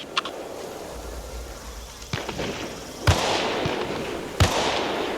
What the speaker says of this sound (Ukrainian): Кулемет, працюй, будь ласка, на придушення.